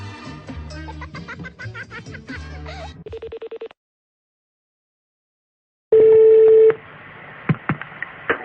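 Telephone keypad tones beep in a quick irregular run for a prank call, followed by a short burst of rapid pulsing tones, a silence, then a loud steady tone and faint clicks and handling noise.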